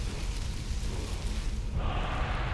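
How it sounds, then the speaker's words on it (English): A Skyrim word-of-power learned effect, a dense rushing roar with a deep rumbling undertone that brightens into a hissing surge partway through, loud and steady with no talk. "Word of power learned."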